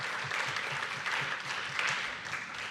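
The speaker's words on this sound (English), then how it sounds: "Let's give a round of applause for our wonderful panelists." Workshop audience applauding its panelists, a dense, even wash of clapping from a room full of people, steady and moderately quiet throughout.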